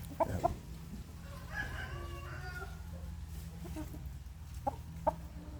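Five-month-old Burmese chickens, some crested, giving a few sharp clucks at the start and again near the end, with a faint crow in between, over a low steady hum.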